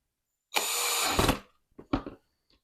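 A power drill whirs in one loud burst for about a second as it drives a screw into a wall-mounted bathroom cabinet, then two short clicking bursts follow.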